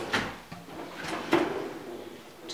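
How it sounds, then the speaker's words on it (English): A kitchen drawer in a compact two-bedroom home slides open and shut, giving a few soft scrapes and a light knock close by in a quiet room, with no talking. "Couple of drawer systems"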